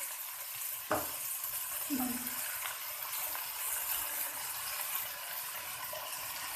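Peas, capsicum and shredded chicken sautéing for spicy pasta, a soft steady sizzle under a faint hiss, with an occasional spoon tap and a brief scrape against the pan, no talk.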